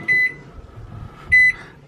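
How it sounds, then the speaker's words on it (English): Two short electronic beeps from a kitchen oven timer being set while cooking, crisp and close, evenly spaced about a second apart over a quiet room. "So let's put our timer on."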